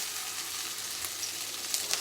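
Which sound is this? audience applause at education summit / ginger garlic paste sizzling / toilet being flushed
ginger garlic paste sizzling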